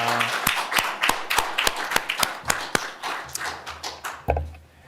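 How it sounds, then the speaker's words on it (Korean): A church congregation claps together during a Sunday worship service, a series of sharp, fairly regular claps with a few heavier thumps, close and distinct, fading out near the end. "우리 하나님께 영광의 박수 올려드립니다."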